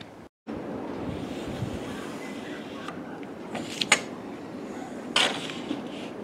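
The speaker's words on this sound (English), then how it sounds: "Never mind the background noise, it's a little windy today, 40 mile an hour wind" Steady roaring 40 mph wind buffets the microphone outdoors, with a few faint knocks and rustles in the background and no speech.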